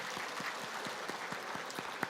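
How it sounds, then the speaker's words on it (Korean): A church congregation at a Sunday service claps vigorously in a faint, even patter of many hands, with a few louder individual claps standing out. "우리 옆 사람 같이 인사하실 때 먼저 힘차게 박수해 드리시고"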